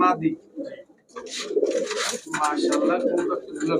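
A male Rajshahi pigeon coos in low, throaty, rolling bursts close by, mixed with a person talking over it.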